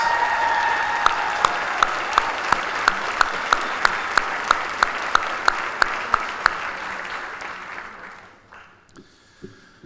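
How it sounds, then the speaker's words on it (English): A crowd gives a round of applause for a music camp leader at a concert, sustained clapping with a few sharp rhythmic claps standing out, then fading to near silence over the last seconds. "So let's give her a round of applause"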